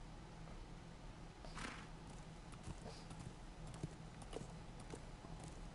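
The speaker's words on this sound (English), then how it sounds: "He's been riding a horse." Horse hooves clip-clop at a steady walking pace in the Game of Thrones video game, quiet and continuous, with irregular hoof strikes under a soft ambient bed and no speech.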